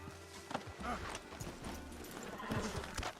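Horse hooves clip-clop steadily as the animal moves off in the Red Dead Redemption 2 video game, close at first, with a neigh mixed in, faint game sounds underneath and someone speaking over it.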